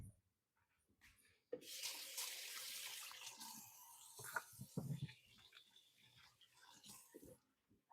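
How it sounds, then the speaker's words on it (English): Tap water runs into a sink while hands are rinsed in a home kitchen, a quiet steady splashing stream lasting several seconds after a brief start, with faint clatter and a few soft knocks around it. "I'm going to give my hands a quick rinse."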